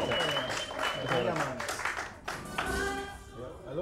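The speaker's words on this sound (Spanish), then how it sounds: "Aplauso, un aplauso." Applause from a crowd at a public address breaks out in scattered claps and builds into a steady patter, mixed with voices talking over it.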